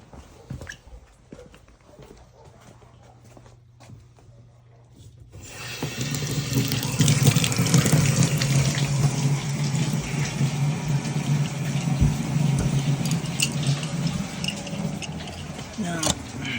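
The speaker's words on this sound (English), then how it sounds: "we're gonna run some hot water" Hot water from a tap during a hose bibb replacement, a steady, loud rushing stream that starts suddenly partway in after quiet background noise and keeps flowing to the end.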